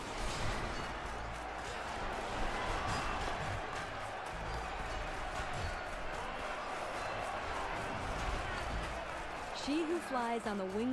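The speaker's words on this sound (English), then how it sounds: "I hear cheering, but I don't see anybody." Distant crowd cheering in Horizon Forbidden West forms a steady, broad roar throughout, with someone talking over it and a short rising game sound near the end.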